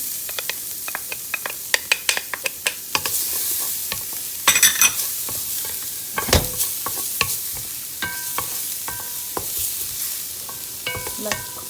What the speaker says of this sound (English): 1 tablespoonful of oil. Okay, let it heat up a little bit. Put my garlic in.